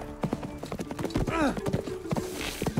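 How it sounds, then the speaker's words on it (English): Hooves clip-clop in an uneven rhythm close by, with a horse's whinny partway through and a voice briefly speaking, from the film Spirit: Stallion of the Cimarron. "Oh, is that his horse?"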